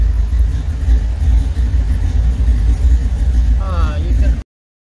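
A 1969 car's engine runs with a low, steady rumble and slight revving, close and fairly loud, then cuts off abruptly into silence as it is shut down; a voice is faintly audible.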